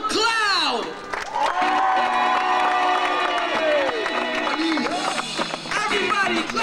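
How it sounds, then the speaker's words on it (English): A crowd cheers and claps at a street dance show at Universal Studios, with whoops and shouts over music, while a voice talks loudly over the noise. "Give it up for Cloud!"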